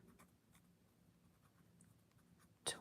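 Pencil scratching steadily across paper at a coloring session, soft and close with faint continuous strokes, ending in a brief sharper tap or scrape.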